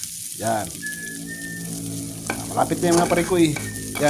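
Sliced hotdog sizzles and crackles steadily in a hot frying pan, cooked ahead of fried rice, with occasional stirring scrapes. Someone speaks over the frying at moderate volume.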